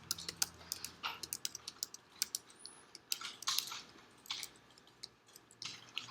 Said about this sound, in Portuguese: Vou digitar os valores.